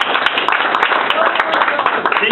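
Audience clapping at a debate, a dense, steady wash of many hands filling the room without letup, loud and close throughout.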